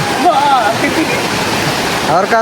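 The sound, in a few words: Didupe waterfall, rushing water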